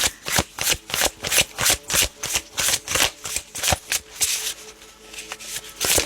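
Tarot cards riffled and shuffled in a quick, steady rhythm of crisp bursts, close and fairly loud, with no voices.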